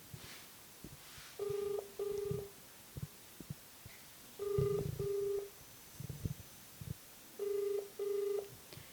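A telephone busy signal: three pairs of short, evenly spaced tones repeat at a steady rhythm, quiet and clear over faint background noise, with no talking.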